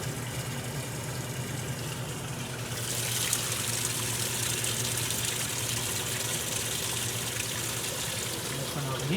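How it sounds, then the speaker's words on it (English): A Maytag A482 or A408S washing machine filling with water for the rinse, a steady gushing rush that swells after a few seconds over a low machine hum, with a voice speaking faintly. "we're going to begin filling for rinse here"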